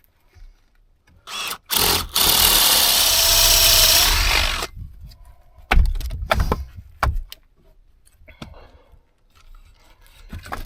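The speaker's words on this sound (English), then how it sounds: "That pine is always a bit easier to drill out." A power drill with a 1 1/8-inch bit bores into pine wood outdoors in winter, giving a loud, bright whirring burst of a few seconds, then clunks and handling knocks as the tool is pulled and moved.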